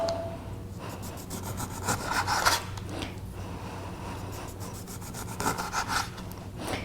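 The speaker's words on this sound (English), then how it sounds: "I'm also going to slice some of this lemon for putting in the drink." A sharp knife slices a lemon into thin slices on a board, giving soft repeated rubbing, rasping cuts at a steady rhythm, close and moderately quiet, with no talking.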